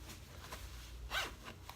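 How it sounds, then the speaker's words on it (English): A Mission Workshop Interval jacket is zipped up in one short, bright rasp near the middle, with a few softer cloth rustles around it and no talk. "and then zip up."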